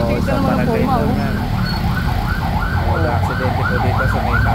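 An ambulance siren wails in steady rising and falling sweeps as it arrives at a road accident at a street corner. Traffic rumbles underneath, and a brief voice is heard early on.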